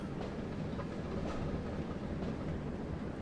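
A BR Class 08 shunter locomotive in the Train Sim World game pulls away under throttle, a steady rumbling, rattling engine drone that stays loud and even throughout with faint rhythmic clatter.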